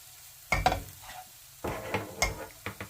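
A thick roasting mixture of gondh being stirred in a pan over low heat: intermittent close scrapes and soft clinks of a spoon against the pan, in short bursts separated by quiet gaps.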